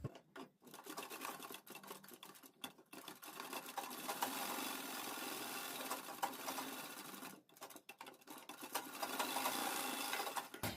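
A sewing machine stitches the side seam of a dress in a long, steady, fast mechanical chatter with a few brief stops along the way.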